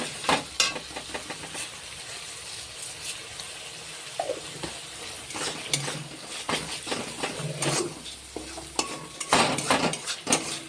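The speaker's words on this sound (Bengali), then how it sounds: "পরিমাণ মতো নুন, চিনি, হলুদ দিয়ে দেব আর ভালো করে নাড়তে থাকবো" Spoon scraping and stirring in a pan as salt, sugar and turmeric go into hot oil for dal, with soft sizzling, occasional metallic clinks and a few louder knocks against the pan, close and without talk.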